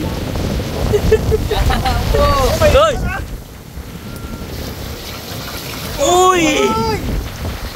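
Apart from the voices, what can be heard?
strong wind blowing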